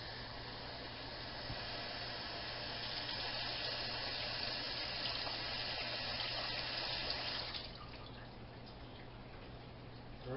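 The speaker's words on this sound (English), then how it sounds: "what we're doing is putting the water into the bowl and using our hand to stir it" Cold water runs steadily into a bowl for washing rice, a continuous close splashing rush that drops lower and quieter toward the end.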